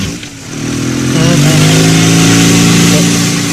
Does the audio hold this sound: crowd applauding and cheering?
no